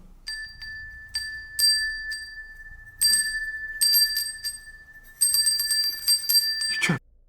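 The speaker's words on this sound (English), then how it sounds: "Please try to follow the sound of the bell and come into this room." A small hand bell is shaken in uneven bursts of clear, high ringing, close by, during a night-time ghost investigation near old tunnels.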